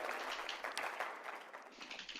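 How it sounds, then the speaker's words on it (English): Audience applause at a CPAC conference: a continuous wash of clapping from a crowd, fairly distant and thin, with no voices over it. "They're having a hard time clapping for him."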